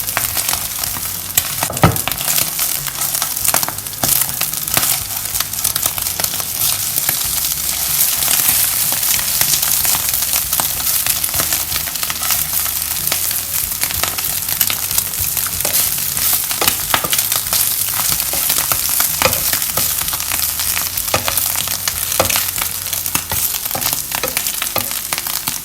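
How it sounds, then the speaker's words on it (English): Eggs with mixed vegetables sizzle and crackle in an oiled pan while a spatula repeatedly scrapes and chops them into small pieces, a loud, close, continuous frying hiss with frequent sharp clicks of the spatula. "Using the spatula to break the eggs into small pieces similar to the size of the vegetable pieces"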